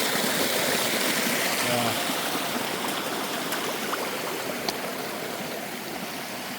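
Water flows steadily in a stream on the Appalachian Trail near Mount Moosilauke, a constant rushing babble with a few small splashes, no voices.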